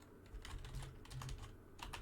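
Someone types a web address on a computer keyboard, a quick close run of light key clicks with short pauses between bursts.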